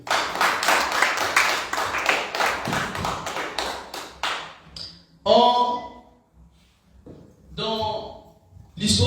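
Church congregation clapping and applauding the Lord together, a dense, steady burst of many hands for several seconds that then fades out, followed by someone speaking.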